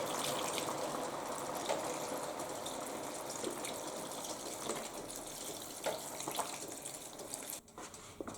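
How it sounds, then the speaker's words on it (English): Broth pouring into a pot of collard greens with butter, a steady liquid gush running continuously at moderate level, easing off near the end. "we're going to begin adding our broth"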